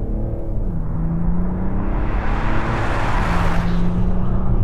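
A Mercedes S-Class limousine in Sport Plus mode accelerating at full throttle, a loud steady engine drone rising in pitch as it pulls, with no talk over it.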